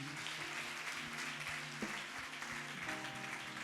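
A church congregation applauds during worship, a steady wash of clapping held at even loudness throughout, with sung or sustained tonal voices running faintly underneath.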